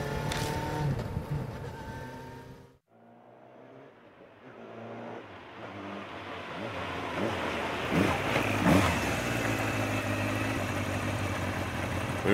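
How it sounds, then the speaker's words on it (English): A motorbike engine rumbles steadily through an empty business district, cutting out briefly and then building back into a continuous rough drone. "The low rumble of the engine echoes through the vacant business district."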